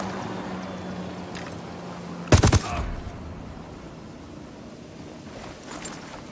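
Short burst of gunfire in the Ghost Recon Wildlands video game, a brief cluster of loud shots standing out over quiet ambient background, then fading into calm.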